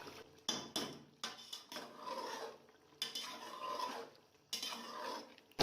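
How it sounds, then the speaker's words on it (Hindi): Spoon scraping and stirring chicken capsicum curry in a pot as it fries down in ghee, with repeated metallic scrapes and bursts of sizzling, close and fairly quiet. "जब तक ये घी नहीं छोड़ देता हम इसकी बुनाई करेंगे अच्छे तरीके से"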